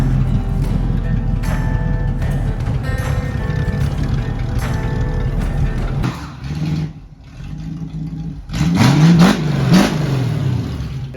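A truck engine under restoration revs hard and loud for several seconds, dips, then surges again as the back right wheel spins and briefly squeals against the pavement.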